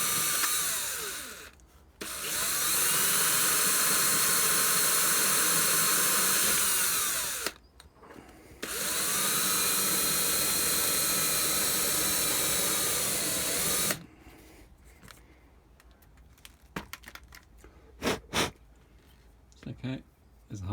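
A power drill bores through plastic to make a hole for wormery aeration fittings, whining loudly in two long sustained runs with a short pause between, followed by quieter handling clicks and knocks.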